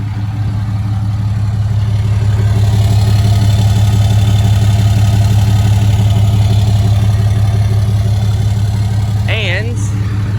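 A deleted pickup truck engine idles loud and close, a steady, even rumble holding for the whole stretch with a brief faint chirp near the end.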